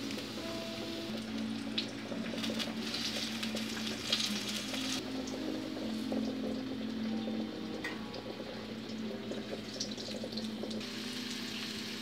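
Zucchini slices fry in a pan for a potato-and-zucchini dish, giving a steady, continuous sizzle and crackle with small bubbling pops throughout and no talking.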